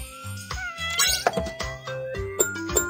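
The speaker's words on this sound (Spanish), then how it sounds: "Pues esta para el gatito." Cartoon kitten meows sound over bright jingly music in a BabyBus pet care app game, with repeated short chimes and tones throughout.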